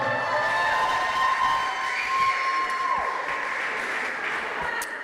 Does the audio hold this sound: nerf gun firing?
no